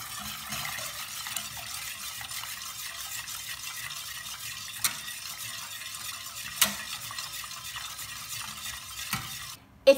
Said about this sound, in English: I'm going to whisk until it starts to thicken up.